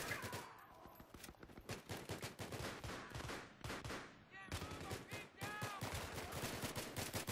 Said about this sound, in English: I've been holding my finger down on the trigger to the heavy machine gun for about 2 minutes straight now